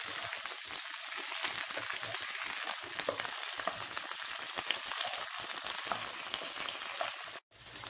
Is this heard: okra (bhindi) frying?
yes